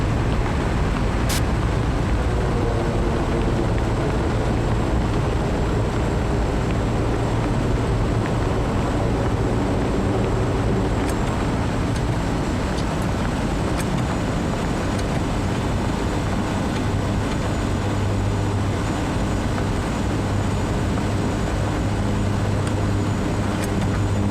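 Aircraft taxiing after touchdown in the MSFS 2020 flight simulator: a loud, steady engine drone with a broad rumbling hum held throughout, an occasional faint tick, and no talk.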